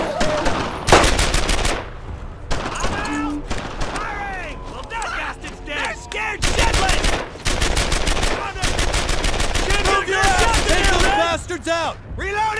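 Squad gunfire in the World War II shooter Brothers in Arms: Earned in Blood: loud bursts of rifle and machine-gun shots in clustered volleys with short gaps, while soldiers shout over the firing.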